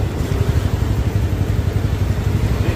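A motorcycle engine idles at an LTO vehicle inspection in Tayuman, giving a close, steady low rumble throughout with no talking.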